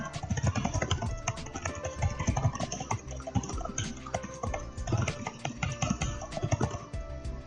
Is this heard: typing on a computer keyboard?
yes